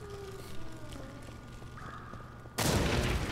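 In The Witcher 2, fire and oil set off an explosion in a dungeon: a sudden loud, roaring burst cuts in near the end after a low, quiet ambient hum and lasts to the close.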